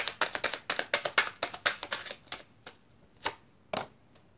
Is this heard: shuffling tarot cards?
yes